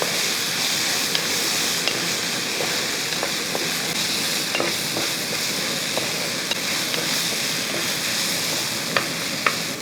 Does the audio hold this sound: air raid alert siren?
no